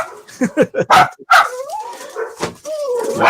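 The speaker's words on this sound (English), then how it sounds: "Mother must be home. The dog's going crazy." Excited dogs barking and yelping at home as someone arrives, loud and close in a rapid burst of barks followed by whiny, howling yips, with a voice mixed in.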